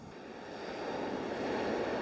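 Surf washes onto an icy New England shore in a frozen winter storm, a continuous broadband rush of waves with wind noise buffeting the microphone, rising slightly in strength, with no voices.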